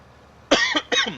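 Two quick, sharp coughs from a man close to the microphone, one right after the other, with a short pause between them against a quiet background.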